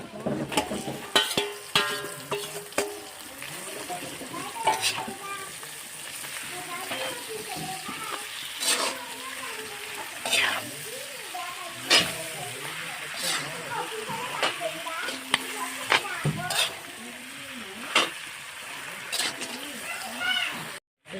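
Duck meat fries and is stirred in a pan, with bursts of sizzle, scraping and clattering utensil knocks throughout, while a voice talks at times over the cooking.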